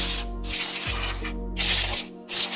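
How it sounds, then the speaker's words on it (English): A handheld bottle of all-purpose cleaner sprays onto a car's engine bay in three close, sharp hissing bursts separated by short pauses, with a low steady hum underneath and no talking. "I went ahead and got myself a bottle of APC just to spray it a little bit more controlled"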